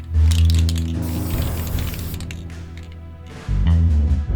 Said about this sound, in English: We then spray both with our matte varnish.